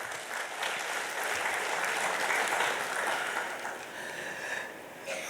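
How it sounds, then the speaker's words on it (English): An audience applauds in a conference hall at a national professional convention, steady dense clapping held for about five seconds that eases slightly toward the end. "So I think that deserves applause."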